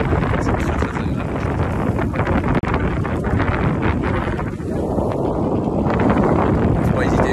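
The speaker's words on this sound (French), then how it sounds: "il fait un temps du Nord, un vent frais" A cool northerly wind buffets the microphone outdoors, a loud continuous rumbling roar with gusty swells throughout and no clear speech.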